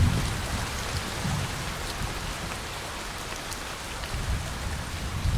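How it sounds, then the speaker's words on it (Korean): Rain falls steadily through a forest near an old Buddhist temple on Wolchulsan, a close, even patter of drops on leaves and ground with soft swells and no voices. "비가 옵니다."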